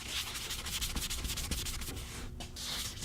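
Alcohol being rubbed by hand over ceramic-coated car paint, a steady close scrubbing swish with rhythmic strokes and no talk.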